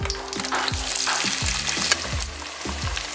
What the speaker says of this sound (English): Now we're gonna put onions over there.